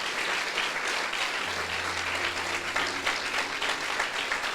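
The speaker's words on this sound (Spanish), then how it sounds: "dale un fuerte aplauso" Congregation applauding during a church service, a steady wash of clapping from a crowd that carries on at an even level without voices over it.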